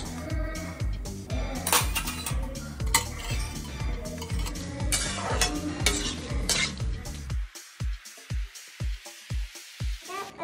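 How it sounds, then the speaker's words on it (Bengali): Bonde fries in hot oil over a high flame, with a busy run of rhythmic stirring, scraping and sizzling that gives way to slower, evenly spaced metallic taps of a utensil near the end, with no speech. "এখানে বোঁদে ভাজা চলছে"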